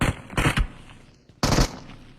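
Gunfire in a retro video game, two sharp bursts of rapid shots close together, then a pause and a third burst, loud and near with no voices.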